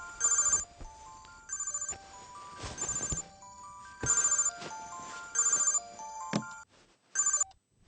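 A telephone rings in repeated electronic bursts, about six rings spaced roughly a second apart, loud and close with no talk over it, in a Telugu film scene.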